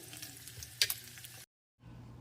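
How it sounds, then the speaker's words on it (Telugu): Garlic cloves and dried red chillies fry in a small amount of oil, giving a close, crackly sizzle with one sharp spit, then a brief silence before the hiss resumes. "దీంట్లో ఒక నాలుగు వెల్లుల్లి రెబ్బలు ఎండుమిర్చి వేసుకొని చక్కగా ఫ్రై చేసుకోవాలి"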